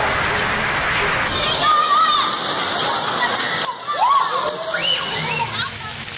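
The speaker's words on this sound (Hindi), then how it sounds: "सिंध के मुख्तलिफ इलाकों में भी बारिश जमकर बरसी" Heavy monsoon rain pours in Sindh, Pakistan, with a steady wash of rainfall and flowing, splashing water running throughout while a person talks over it.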